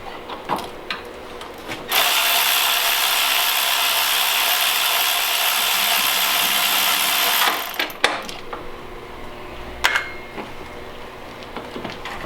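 A ratchet tool clicks rapidly and continuously for several seconds while loosening bolts on an AP1 Honda S2000, close and loud, followed by a few scattered metallic clinks and knocks.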